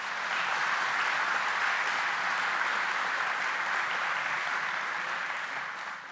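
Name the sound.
round of applause at groundbreaking ceremony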